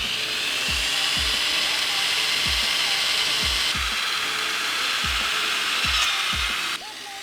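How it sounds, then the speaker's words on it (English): A drill bit bores into a seized, center-punched bolt on a 450whp Hyundai Genesis, a steady loud whine of the drill broken by repeated low thumps and clunks as the bit bites, running continuously with no talk. "and all their miserable drilling into that stupid bolt"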